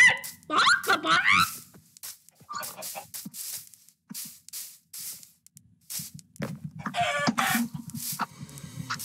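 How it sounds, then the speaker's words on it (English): Chickens in a Minecraft block hunt game cluck in short bursts with gaps between, a few squawks rising higher, close and fairly loud against brief hit-like clicks and quiet pauses. "I'm having a fight with the chicken."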